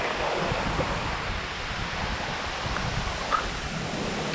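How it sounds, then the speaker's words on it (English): Kuang Si Waterfall in Laos gives a steady, even rushing roar of falling water with no breaks, mixed with some wind noise and no voices. "There's a waterfall over here."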